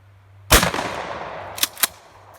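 A real shotgun fired from the hip, a single sharp, loud blast with a decaying echo, followed by two quick mechanical clacks of the action.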